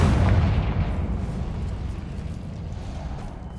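Confringo spell explosion in a cavern in Hogwarts Legacy, a deep booming burst at the start followed by a sustained low rumble that slowly fades, with no speech.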